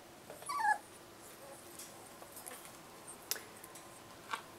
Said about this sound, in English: Uh-oh, my puppies outside are fighting.